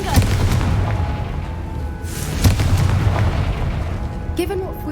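An explosion spell blasts in Hogwarts Legacy, a loud, booming burst followed by rumbling debris and layered game effects, heavy and close amid continuous in-game sound.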